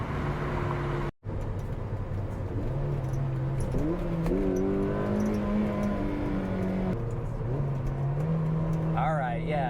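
A 2012 Mazda MX-5 Miata engine pulls through the gears from inside the cabin. Revs rise steadily, then cut briefly at each shift and climb again in a smooth, moderately loud sequence with no talk.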